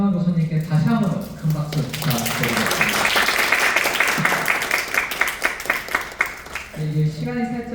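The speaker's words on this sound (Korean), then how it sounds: "하정환 교수님께 다시 한번 큰 박수 부탁드리겠습니다" Audience at a lecture applauds a professor, a dense patter of clapping lasting several seconds, framed by a voice talking before and after it.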